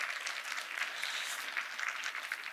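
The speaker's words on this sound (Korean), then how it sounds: "저희 연구원을 위해서 박수 한번 쳐주지 않겠습니까?" Steady audience applause fills the space for a couple of seconds, a dense even wash of many hands clapping at a research institute presentation in Gyeongnam, with no voices over it.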